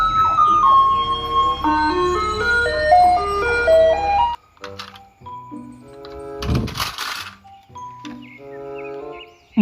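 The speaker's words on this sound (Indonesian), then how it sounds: "Mobil truk sampah." A toy garbage truck plays its electronic jingle, a bright, stepping melody of beeping tones that runs loud and close. It breaks off, then resumes in shorter phrases with a soft thump in between, and no one talks.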